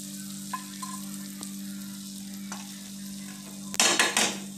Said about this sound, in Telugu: ఇలా రైస్ లో వేసుకొని చక్కగా కలుపుకోండి